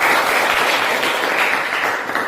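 A classroom of students claps for a group after its discussion, a steady wash of applause that fades slightly toward the end.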